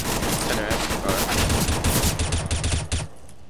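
Rapid gunfire from CS:GO, a dense burst of loud overlapping shots that fills nearly three seconds, then drops off abruptly to quieter game ambience.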